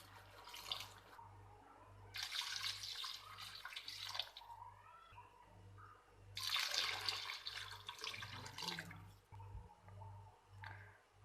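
Water poured into a pot of softened mixed vegetables and rice for vegetable pulao: three separate splashing pours, each a couple of seconds long, over a low steady hum, with no talking.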